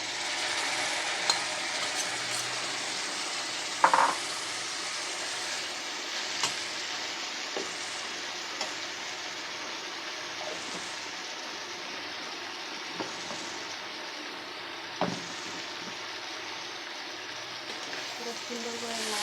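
Taro stolons go into a hot frying pan with spices, giving a steady soft sizzle with occasional clinks and scrapes of stirring, while a voice speaks nearby.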